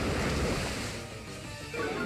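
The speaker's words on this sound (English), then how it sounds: "Here comes the Muddy Water from the mighty shiny Quagsire." Muddy Water attack in Pokemon Ultra Sun Ultra Moon, used by a shiny Quagsire: a loud, steady wash of rushing, surf-like water noise that fills the whole moment without any speech.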